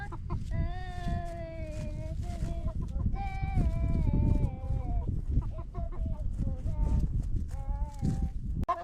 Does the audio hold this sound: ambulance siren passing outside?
no